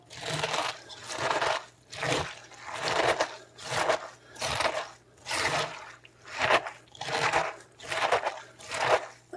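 Shredded cabbage mixed by hand in a crock for homemade sauerkraut, giving repeated wet crunching, squishing strokes in a steady rhythm of about ten pulses, close and fairly loud with no talking.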